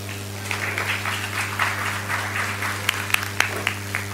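Applause from a conference audience in Istanbul, a moderate, steady spread of clapping under a constant low electrical hum, fairly distant and even, with a few sharper claps near the end.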